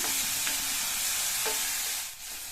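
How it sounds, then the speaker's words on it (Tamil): Chopped onions sautéing in a hot pan, a steady dense sizzle throughout with a couple of brief stirring scrapes, close and fairly loud, no voices. "சேர்த்த வெங்காயத்தை ஒரு 30 செகண்ட்ஸ்க்கு வதக்கியிருக்கேன்"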